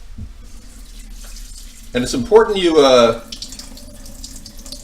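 Filtered water runs from a kitchen tap over brown rice in a pot for rinsing, a steady soft rush that sits low under a person's speaking voice.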